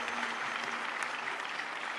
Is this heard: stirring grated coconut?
no